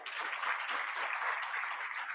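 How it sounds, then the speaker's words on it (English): A conference audience at the C20 South Africa launch and mid-term dialogue gives a round of applause, a soft, even patter of many hands heard from some distance and sustained throughout. "Another round of applause."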